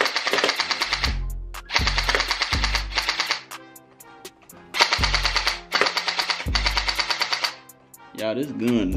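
A Glock gel blaster with a drum magazine fires in rapid full-auto bursts, loud and close, with short gaps between strings of shots and a bit of mechanical handling at the end.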